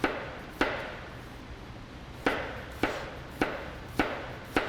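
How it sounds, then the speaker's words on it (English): A channel knife cuts summer produce on a board with six sharp, separate chops spaced unevenly over a few seconds. The strokes are close and crisp, and a low room hum sits between them. "You can see what that looks like when I cut it with that channel knife."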